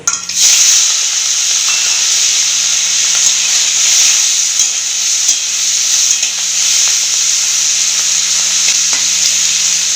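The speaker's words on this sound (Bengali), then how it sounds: "তেল গরম হয়ে গেছে চিংড়ি মাছগুলো ভেজে নেব" Prawns fry in hot oil in a wok, producing a loud, continuous hissing sizzle at close range with faint crackles and no talking.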